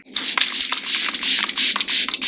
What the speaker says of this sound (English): now I'm going to do my first round of setting spray